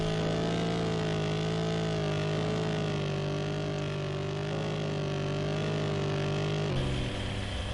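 A virtual remote-control toy car in an augmented reality racing game hums with a steady, buzzing engine drone whose pitch dips briefly near the end.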